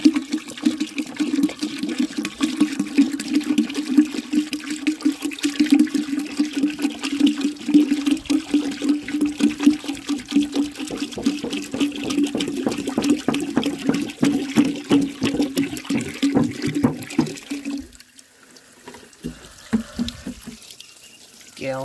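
A 1905 forward trap toilet flushes with a strong, steady rush of water for about seventeen seconds, then the flow drops off and settles to a quieter trickle and drain at close range.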